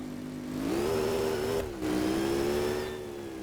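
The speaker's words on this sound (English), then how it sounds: "Oh, listen to that thing. 6-cylinder life. Turbo 6-cylinder life." Turbo six-cylinder engine of an old, rusted tow truck revving up in second gear, loud and close, rising, dipping briefly during a shift, then holding high before easing off.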